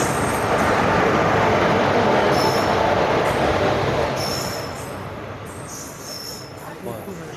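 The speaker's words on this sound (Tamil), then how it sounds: "தருமபுரியிலேருந்து ட்ரெயின் கிளம்பிடுச்சு." A passenger train pulls out of Dharmapuri station, its wheels rolling and rumbling loudly and steadily at close range. Faint high squeals rise over the din, and the noise slowly eases as the train gathers pace.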